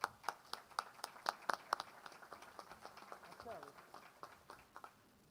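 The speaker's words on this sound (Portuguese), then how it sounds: "Uma salva de palmas para ele." A conference audience at a maritime law congress claps in scattered, distinct slaps that bunch up at first and then thin out into sparse individual claps, heard from a distance with faint background murmur.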